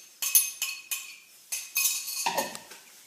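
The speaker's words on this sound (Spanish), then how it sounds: "Y vamos revolviendo todo." A metal spoon clinks and taps against a bowl about six or seven times in a rough rhythm, close and bright, while the ingredients for a crab and shrimp cocktail are stirred together.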